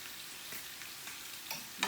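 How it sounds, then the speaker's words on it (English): Bacon and chicken frying in separate pans give off a steady, close sizzle with soft crackles and a few stirring scrapes, with no voices. "I've got my bacon frying in this pan, and I've got my chicken frying in this pan."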